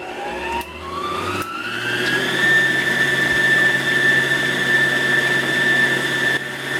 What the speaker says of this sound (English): You want to make sure you're using a whisk attachment. Going to go ahead and lower it. And we're going to beat at a fairly high speed.